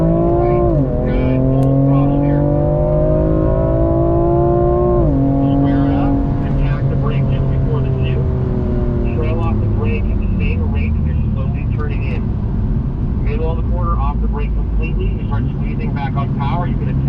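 BMW car at full throttle on a race track during M School track instruction, engine note rising steadily in pitch, dropping at a gear change and climbing again, loud and continuous under an instructor's talk.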